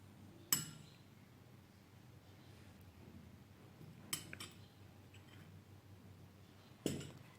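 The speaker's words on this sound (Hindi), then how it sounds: "चम्मच चलाकर मिक्स कर लें।" A metal spoon clinks against a glass while a homemade weight-loss drink with black pepper is stirred: three sharp, isolated taps, close and clear, separated by long quiet stretches.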